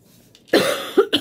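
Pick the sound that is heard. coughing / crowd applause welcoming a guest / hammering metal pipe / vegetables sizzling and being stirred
coughing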